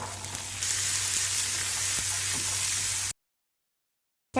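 Boiled green peas are stirred into a frying masala, giving a steady close sizzle with faint stirring scrapes that stops abruptly into silence.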